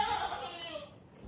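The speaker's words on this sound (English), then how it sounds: "she's on the small side for a Nigerian dwarf goat. She says, just give me my breakfast" A small Nigerian dwarf goat gives a short, close bleat lasting under a second, fading into quiet background noise.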